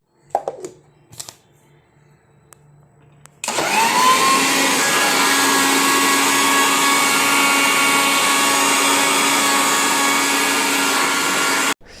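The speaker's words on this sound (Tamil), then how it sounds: "சேர்த்துட்டு நம்ம இருக்கா மிக்சியில் மிக்ஸ் பண்ணி எடுத்தால் ஓகே, ரெடியாக இருக்கும்" A mixer grinder blends a chocolate milkshake with a loud, steady whirring drone that holds from about three seconds to the end, after a few brief clicks and clatters at the start.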